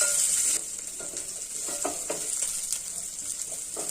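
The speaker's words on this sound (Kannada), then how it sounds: "ಈರುಳ್ಳಿ, ಕಟ್ ಮಾಡಿರೋ ಈರುಳ್ಳಿ, ಕರಿಬೇವು, ಚೆನ್ನಾಗಿ ಫ್ರೈ ಮಾಡ್ಕೋಬೇಕು." Chopped onions and curry leaves fry in hot oil with mustard seeds for a bottle gourd curd curry, a steady close hiss dotted with small pops and crackles, with no voices.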